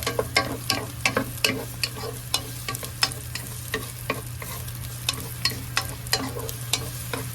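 Onions sautéing in a pan for kare-kare, a steady sizzle under a low constant hum, with a spatula scraping and stirring in quick repeated strokes throughout.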